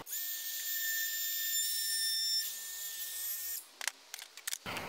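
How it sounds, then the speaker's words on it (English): A handheld router cuts the edge of a wooden window sill with a loud, high, steady whine that runs for several seconds, then cuts off and is followed by a few light knocks and handling sounds. "we just took that edge and we routed it down, and it's a nice smooth edge"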